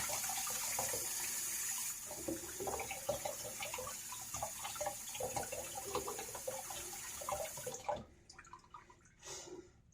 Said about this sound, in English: let's get this razor under some hot water.